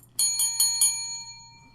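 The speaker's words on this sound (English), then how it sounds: "I'm getting the bell." A hand bell struck four times in quick, even succession during a charity telethon broadcast, each ring bright and close, with the final tone ringing out and fading over a low background hum.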